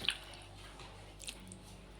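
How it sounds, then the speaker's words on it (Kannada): Chicken pieces worked into a thick maida and egg-white batter for chilli chicken, giving faint, soft wet squelches, one near the start and another a second later, with no talking. "ನೆಕ್ಸ್ಟು ಇದಕ್ಕೆ ಚಿಕನ್ ಹಾಕ್ಕೊಂಡು ಕಲಿಸ್ಕೊಳ್ಳೋಣ."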